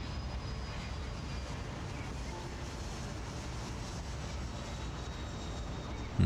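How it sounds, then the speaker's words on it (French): Airplane engine sound effect in the Airport CEO airport management video game, a steady continuous jet drone at moderate level throughout, with no talk over it. "J'entends un avion."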